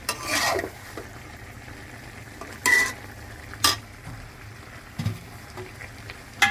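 Fish pieces sautéed and stirred in a pan while making masala egg noodles, with several sharp spatula scrapes and clinks against the pan over a quiet sizzle, close by and with no talk.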